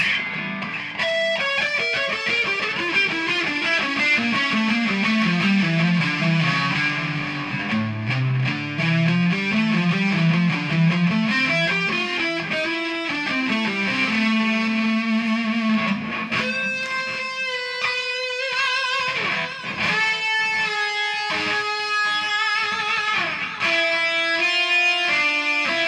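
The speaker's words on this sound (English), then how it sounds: "We've got also our distortion, like our boost," Electric guitar with a distortion boost, played through a Pod HD500x into a DT50 amp: dense, driven chords and sustained notes ring out continuously, loud and close, with no voices.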